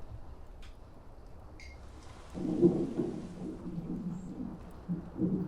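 Stage-play thunderstorm effect: a low, distant rumble swells in partway through and rolls on unevenly with a few heavier surges, fairly faint under a quiet room backdrop.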